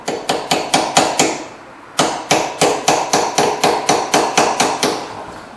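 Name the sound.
hammering a brake bar back into place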